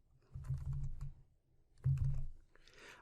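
Two short bursts of keystrokes on a computer keyboard as someone types into a Windows search box, close and moderately quiet, separated by a brief pause.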